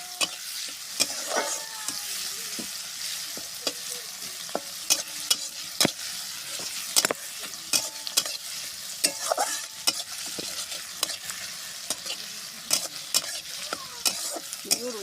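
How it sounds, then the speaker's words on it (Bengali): Onions fry in oil in a pan for a village-style chicken curry, a close, steady sizzle broken by frequent sharp crackles and spatula scrapes from stirring, with no talking. "পেঁয়াজগুলোকে একটু লাল লাল করে ভেজে রসুন বাটাটা দেবো"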